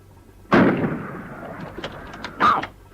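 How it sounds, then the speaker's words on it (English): Covering gunfire effect in a wartime radio drama: two sharp, loud blasts about two seconds apart, each trailing into a rumbling decay, with faint clicks between and no speech. "I'll give you covering fire."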